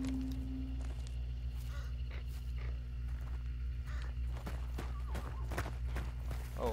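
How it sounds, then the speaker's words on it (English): A horse galloping in the video game Hunt: Showdown, its hoof clops coming as quick irregular hits over a steady low game ambience with a continuous hum, fairly close and moderately loud, with no one talking. "Oh, hell. That was a horse."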